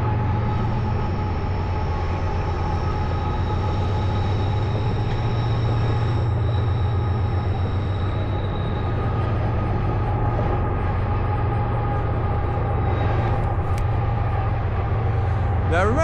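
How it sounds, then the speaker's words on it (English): A train approaches past campus athletic fields, a steady low rumble of wheels and cars that fills the whole stretch, with faint higher tonal whines riding above it. "A train heading this way."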